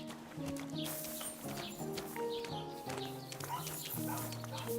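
Horse hooves clip-clop at a steady walking pace in the video game Kingdom Come: Deliverance II, over a layered musical background, fairly soft and continuous.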